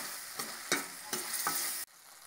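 A spoon stirs turmeric and asafoetida into a cooking tomato mixture for a lentil curry, four or five soft, rhythmic scraping strokes over a gentle simmering sizzle, ending abruptly.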